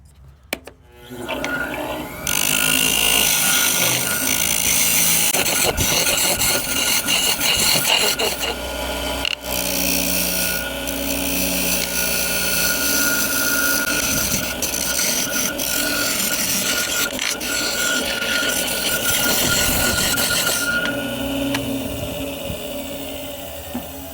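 A wood lathe turns a piece of firewood into a bud vase as the tool scrapes the spinning wood, a loud continuous rasping that runs almost the whole time with brief dips.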